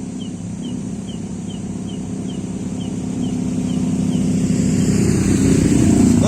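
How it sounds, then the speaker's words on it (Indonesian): A motorcycle engine drones steadily on a road at night in Bacem, Ponggok, growing gradually louder as it approaches, with a faint high chirping insect tone running above it. "Bentar masih ada motor."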